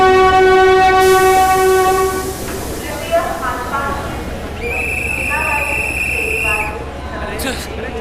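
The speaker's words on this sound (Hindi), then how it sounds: "जल्दी चल वरना ट्रेन चली जाएगी।" A train horn blares in long held tones at a railway station as the Jodhpur–Mumbai Express prepares to depart, followed by rumbling rail noise and a second horn blast, with background bustle.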